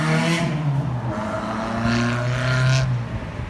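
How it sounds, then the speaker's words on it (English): Drift car engine revving at a drift event, loud rising and falling revs with harmonic pitch sweeps, close and continuous across the short stretch. "Oh, there's a rev. There's a rev."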